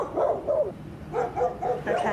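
A dog barks in a backyard, several quick close yips and woofs in two short bursts with a pause between, no talk over them.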